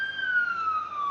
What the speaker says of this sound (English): Really, fucking sirens.